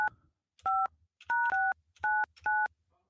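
A phone dials out with five crisp two-tone beeps in an uneven rhythm, close and clear over near silence.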